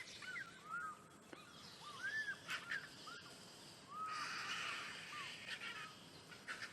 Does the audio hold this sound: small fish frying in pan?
no